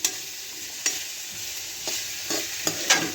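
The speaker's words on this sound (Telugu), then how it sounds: "ఇట్లా అప్పుడప్పుడు కలుపుతుండాలి" A spoon scrapes through ivy gourd curry frying in a pan, giving a few separate stirring strokes over a soft, continuous sizzle close by.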